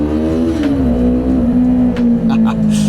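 QJMotor SRT450RX motorcycle engine revving close by in a loud sustained drone, pitch dropping slightly then holding steady, with brief faint bumps over the top.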